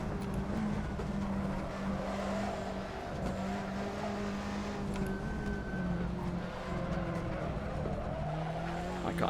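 A Fiat Tipo race car in a racing game at Road Atlanta drones with a steady engine note that rises and falls through the gears, with tire squeal and a voice talking faintly underneath.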